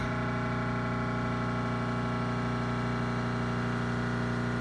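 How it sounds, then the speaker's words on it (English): The electric motor for a Cincinnati milling machine running in reverse, giving off a smooth, steady hum with constant pitch and loudness and no talking, close and fairly quiet. "Very smooth running motor."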